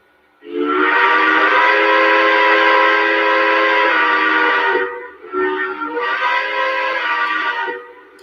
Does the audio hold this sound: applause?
no